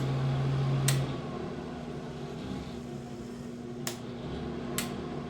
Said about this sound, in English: The noise you hear is the exhaust fan.